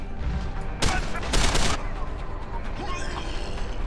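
A burst of gunfire from the video game Deus Ex: Human Revolution, two loud, dense volleys close together in the first half, then a rumbling tail.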